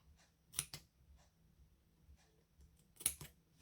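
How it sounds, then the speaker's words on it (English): Two quick pairs of crisp snipping clicks, like scissor blades closing, separated by a pause in a quiet room. "these scissors don't want to cut. Let me try these ones."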